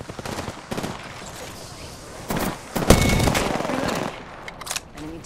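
Bursts of gunfire from the battle royale shooter Apex Legends, a few scattered shots early and then a louder sustained volley near the middle, punchy and close, with faint game voice lines in between.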